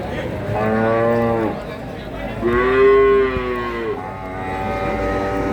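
A Limousin cow at a cattle market moos three times, each a loud, drawn-out bellow up close, separated by short pauses.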